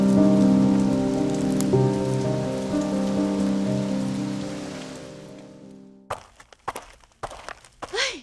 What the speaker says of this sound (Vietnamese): trời đang đổ mưa lớn